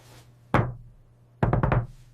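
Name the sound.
knocking on a table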